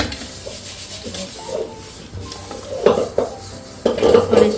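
Pots and dishes being scrubbed and clattered in a home kitchen while a Marathi crab curry cooks nearby, with irregular scraping, stirring and clanking that grows louder and busier toward the end.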